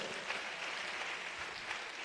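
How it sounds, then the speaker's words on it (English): Faint, distant applause from a conference audience at a corporate social responsibility event, a brief, even wash of clapping with no clear voices. "Please give all of them a warm round of applause."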